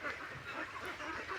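A crowd of confined farm-raised ducks calling together, dense overlapping quacks and honks in a brief burst, fairly faint and continuous.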